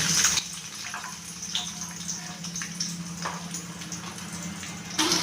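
Chopped onions, green chilli and garlic fry in hot oil, giving a steady watery hiss and crackle with a few sharper spatters at the start and end.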